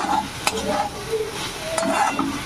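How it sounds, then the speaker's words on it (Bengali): Prawns being stirred and fried in a pan: a close, bright sizzle broken by scraping, stirring strokes and a couple of sharp clinks over a few seconds. "মাছগুলোকে এবার খুব সুন্দর করে নাড়াচাড়া করে ভেজে নেব"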